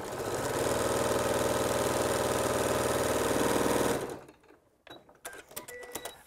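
A sewing machine stitches through layered cotton organdy and wool fabric, a loud, steady mechanical whir that runs for about four seconds and then stops, leaving quiet handling clicks and rustles.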